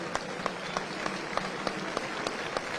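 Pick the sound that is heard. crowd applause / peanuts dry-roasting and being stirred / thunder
crowd applause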